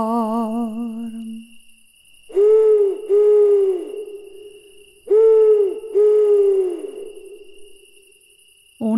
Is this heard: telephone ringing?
no